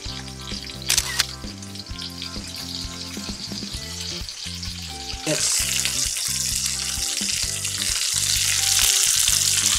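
A chicken breast stuffed with spinach and cheese sizzles and spits in a hot pan, a steady crackle that grows louder and brighter partway through, with a few clicks and clatters.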